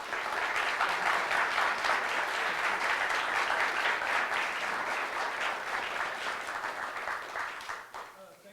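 Sustained audience applause welcoming a speaker to a lecture at St. John's, dense clapping from a full room holding steady before tapering off at the end.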